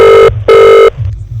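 A telephone rings loudly and close by, giving two sharp electronic ring bursts separated by a short gap before the sound cuts off.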